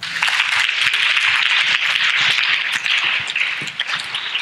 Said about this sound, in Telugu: దేవుని చప్పట్లు కొట్టండి